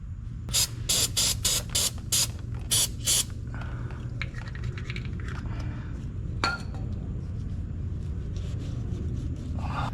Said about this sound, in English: Let me get some brake cleaner.